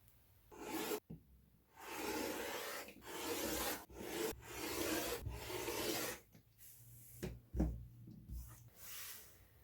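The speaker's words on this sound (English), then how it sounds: "then I'm going to cut it into the appropriate sizes" Repeated scissor or rotary-cutter strokes slicing through pieced quilt backing fabric, a run of soft rasping cuts broken by brief pauses, close and fairly quiet with no talk.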